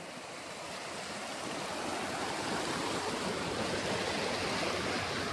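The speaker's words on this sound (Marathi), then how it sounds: "बघा या साईडने सुद्धा किती पाणी वाहतंय." A fast river current rushing past in a strong, steady broadband roar that swells slightly and holds constant, close and loud with no talk.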